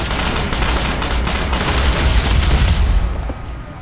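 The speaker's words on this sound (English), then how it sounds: "Stop shooting bullets." Dense, continuous automatic gunfire in the Ghost Recon shooter game, loud and close, a rapid unbroken stream of shots that eases off slightly near the end.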